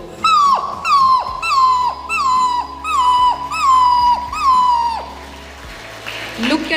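A person at a school awards ceremony imitating a puppy's whimpering, six rising-and-falling whiny yelps in a steady rhythm, loud and close, followed by a brief quiet tail.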